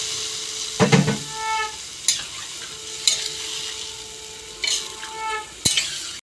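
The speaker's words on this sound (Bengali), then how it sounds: "আলু একটু কষাবো" Potatoes being stir-fried in a pan for a fish curry make a soft sizzle, broken by several sharp scrapes and clinks of a utensil at irregular intervals.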